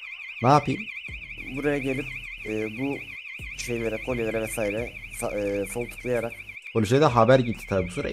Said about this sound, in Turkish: Alarm alarm çalıyor. çalmaya başladı.